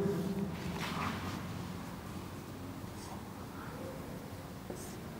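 Chalk scratches across a classroom blackboard in soft, faint strokes, writing Hindi words during a zoology lecture, in an otherwise quiet room.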